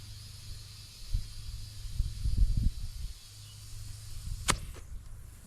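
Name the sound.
air hissing as it leaks from a tractor tire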